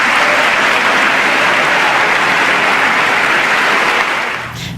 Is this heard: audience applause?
yes